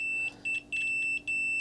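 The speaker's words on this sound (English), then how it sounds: "So I have a beep. That means that transistor's reading a short right now." Multimeter continuity beeps while probing a shorted transistor on the board of a Samsung Frame TV One Connect box: a sharp, steady high tone sounding in four separate bursts over a short stretch, loud and close with no talk.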